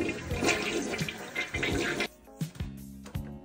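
Water rushes and gurgles through a clogged toilet as a plunger clears it, with several surging flushes and drains, loud and close with no talking.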